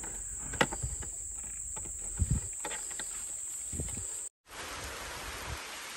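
Heavy rain falls outdoors as a steady broadband hiss, with a high insect chirp and a few low thumps at first, then an unbroken wash of rain after a brief cut.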